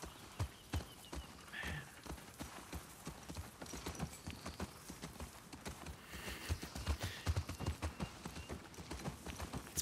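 Horse hooves clip-clopping in The Last of Us Part II, a steady rhythmic trot of sharp hoof strikes close by that carries over light background ambience, with a brief whinny-like sound early on.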